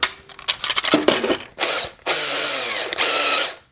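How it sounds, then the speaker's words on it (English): A power drill runs in several loud bursts, whirring and grinding close up as it drills into a broken bolt stuck in a bushing, with short pauses between spins and no talking. "I will start with the number 2 drill bit."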